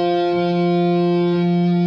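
Distorted electric guitar holding a sustained, heavily effected chord or note from a Cyberpunk 2077 riff, loud and steady with a buzzing tone throughout.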